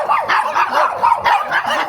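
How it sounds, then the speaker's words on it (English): Chihuahuas in Mexico bark close and loud in a rapid run of sharp yappy barks and yips, several in quick succession filling the moment. "Oh, what ridiculous dogs. Chihuahuas have serious small man syndrome."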